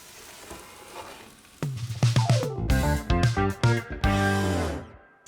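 Steak and vegetables sizzling for steak quesadillas, a loud crackling hiss that bursts in suddenly and swells with choppy, wavering pulses as the food hits the hot surface, up close with no talking.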